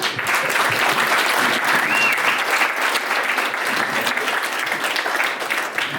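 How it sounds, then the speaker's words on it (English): Wedding guests applaud after a speech, a steady, close and full round of clapping with no talk over it. "Give him a round of applause."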